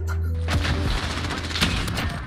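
Fire shotgun blasts in a Call of Duty Search and Destroy match: a couple of heavy booming shots under a constant droning game background, fairly loud and close, with no talking.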